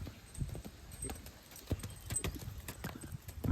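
Horse hooves clip-clopping in a steady trotting rhythm, close and fairly loud, with scattered background noise and no clear talk.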